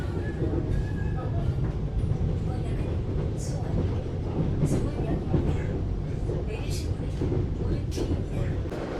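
A Korean subway train rides between stations, giving a continuous rumbling rail roar with faint clatter from inside the car, while a person speaks over it.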